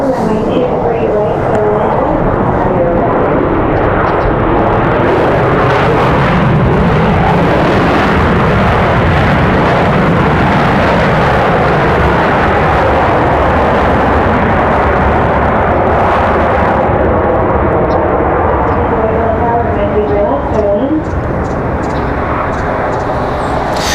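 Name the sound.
airliner landing at Raleigh Durham airport in crosswind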